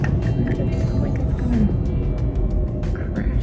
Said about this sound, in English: good grief, that's a loud airplane.